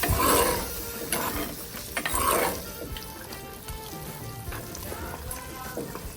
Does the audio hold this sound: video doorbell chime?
no